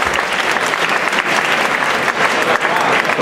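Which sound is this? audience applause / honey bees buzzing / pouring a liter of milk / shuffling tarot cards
audience applause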